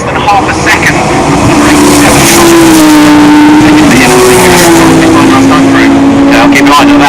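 Ginetta G50 GT race cars at Oulton Park: a loud, close engine drone holding a steady pitch with a brief dip and a shift upward midway, as a commentator talks throughout.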